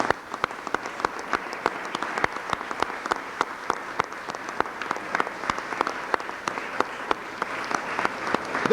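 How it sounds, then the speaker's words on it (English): An indoor crowd claps for several seconds. The applause is steady and moderately loud, with sharper individual claps standing out above it throughout. "give them all a big round of applause"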